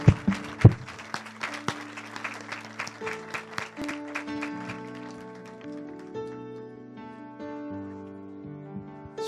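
A church congregation applauds in praise, a burst of close clapping at the start that settles into steady applause, with organ or keyboard chords sustaining underneath throughout.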